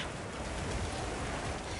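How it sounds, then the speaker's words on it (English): Heavy rain pours down in the video game Monster Hunter Wilds, a steady, dense hiss of a downpour that holds at an even level throughout with no voices. "The rain's really coming down."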